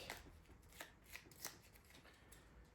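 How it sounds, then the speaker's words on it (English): Playing cards from the Starship Captains board game being shuffled back into the deck, giving a few quiet riffling bursts at a steady pace, close by, with no talk. "let's shuffle these back into the deck"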